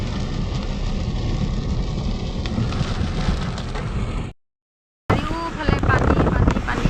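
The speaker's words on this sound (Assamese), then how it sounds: "নন ষ্টপ বৰষুণ দি আছে। বৰষুণ কমাই নাই অলপো।" Heavy, non-stop rain pours down during flooding, a dense, loud and continuous hiss that cuts out briefly before resuming just as strongly.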